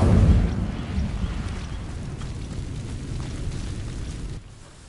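In Hogwarts Legacy, an Incendio fire spell ignites dry vines with a loud burst, followed by a sustained crackling, whooshing fire roar that drops off sharply near the end.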